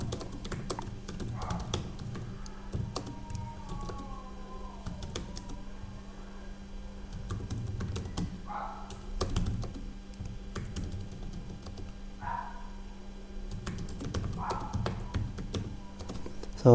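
Soft clicking of a computer keyboard as someone types steadily for several seconds, with a few heavier key thumps and faint background noise.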